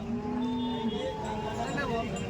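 A cow gives a long, low moo close by at a cattle market in Chalisgaon, followed by faint animal sounds and background murmur.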